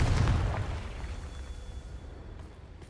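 A Confringo spell explosion in the video game Hogwarts Legacy: one deep, booming blast at the start that fades into a long, low rumbling decay, moderately loud and with no talking.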